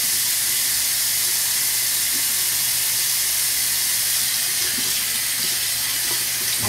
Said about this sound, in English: I hope you can hear me over the water.